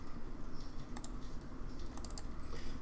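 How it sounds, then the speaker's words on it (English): Someone types on a computer keyboard during game development work, producing soft, close, irregular clicks under a low background hum, with no talk. "because I'm sick of typing things"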